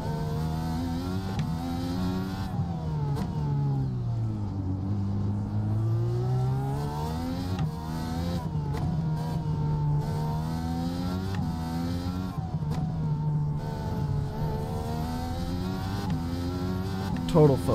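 An IndyCar engine at the Long Beach street circuit in iRacing sweeps up and down through the gears, a continuous buzzing whine that rises and falls repeatedly, heard under a man's speech.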